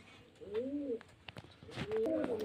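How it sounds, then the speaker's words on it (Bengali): Pigeons coo at a pigeon seller's place, with two rounded, rolling coos close by, the second following after a brief pause amid light background clatter. "পায়রা অনেক পায়রা আছে"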